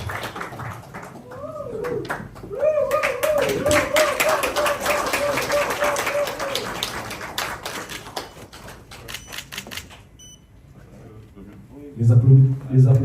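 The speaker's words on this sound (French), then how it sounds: "Les applaudissements timides" Timid, scattered applause breaks out at a government handover ceremony at the Hôtel du Gouvernement in the DRC. Sparse, uneven claps patter beneath people talking, then thin out before a louder burst of talk near the end.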